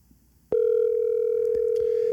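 After a brief moment of quiet, a steady telephone dial tone starts abruptly and holds at an even volume, close and clear.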